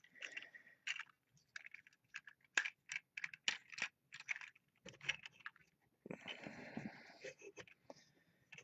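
Small plastic clicks and ratcheting snaps from a Transformers Combiner Wars Voyager Optimus Prime toy's joints being adjusted, a quick irregular series of close, crisp ticks with short pauses, followed by a denser rustling burst of handling.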